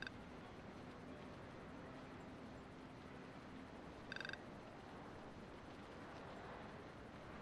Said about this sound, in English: The frog's joining in the conversation.